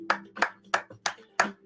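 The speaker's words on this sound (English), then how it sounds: "I think the first time Vinesh Siban, I think we should give him a fucking round of applause there." Five sharp hand claps spaced about a third of a second apart, close and fairly loud, a short scattered round of applause over a low steady hum.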